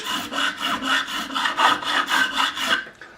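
A 2.5mm fret file rasps back and forth across a guitar fret to remove burrs on a vintage Thomas Blug signature Stratocaster, about ten even, close strokes in a steady rhythm.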